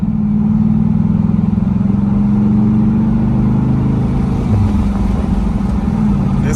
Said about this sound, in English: it's like one of those discreet exhausts